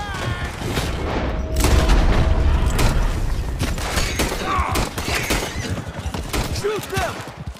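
Gunfire crackles in rapid bursts alongside heavy booms from an explosion in the Western open-world action game Red Dead Redemption 2, during the American Fathers mission, loud and dense throughout with shouted voices mixed in.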